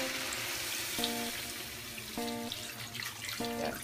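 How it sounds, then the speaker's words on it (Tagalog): Water is poured into a pot of chicken feet adobo with a soft running, splashing sound. A few short tonal beeps sound over it, and the clip is fairly quiet overall. "Bigyan natin siya ng tubig."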